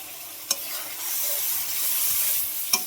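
Ginger, cumin and chili spice paste sautéing in a pan for a mustard-oil fish curry, giving a steady soft sizzle with a couple of sharp spoon scrapes, close and alone without voices.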